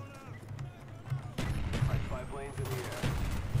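Gunfire from the shooter game Black Ops 1, a busy firefight with repeated shots and bursts over a steady background hum, loud and continuous with sharper cracks around the midpoint and near the end.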